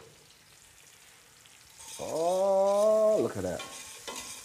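Garlic cooking in a pan for shrimp and grits, with a quiet frying sizzle under a brief spoken remark and a loud, tonal scrape or squeal partway through.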